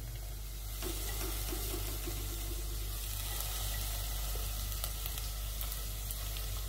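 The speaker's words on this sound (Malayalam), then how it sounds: "ഇനി ഇതിലേക്ക് അരഞ്ഞു വെച്ച ബസല ചീര ഇട്ട് കൊടുക്കാം." Ground basella spinach sizzles steadily in a hot pan while being stirred, a continuous close frying hiss with faint scraping and no speech.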